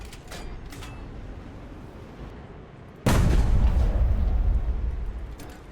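A loud, close cannon blast from the Flying Jagdtiger in a battleship game erupts midway, booming and rumbling as it decays, after a stretch of quieter engine and water-like background noise.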